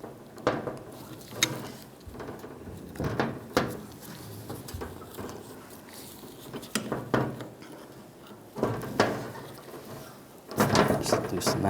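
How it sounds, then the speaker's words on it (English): A 13mm wrench works a nut off under the wiper arm of a 1998–2010 Volkswagen Beetle, giving irregular close metallic clicks, ratcheting bursts and scrapes between pauses, with someone speaking intermittently. "Use a 13mm wrench, take that nut off."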